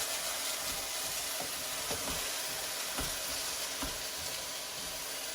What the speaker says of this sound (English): now we're just gonna make it a little stir